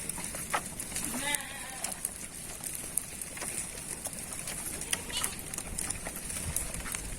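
Fattening goats on a goat farm give a brief wavering bleat early on, amid clicks, shuffling and farmyard background noise.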